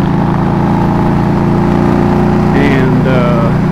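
A Yamaha Tracer motorcycle with a 900cc triple engine, ridden on TX 208 between San Angelo and Robert Lee, makes a steady, loud engine drone with wind rush. A brief rising whine comes near the end.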